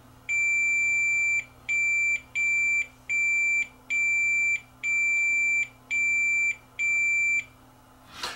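Multimeter continuity tester on a CD player ribbon connector gives eight short, high electronic beeps in an even rhythm, each about half a second long, clear and close over a faint background hum.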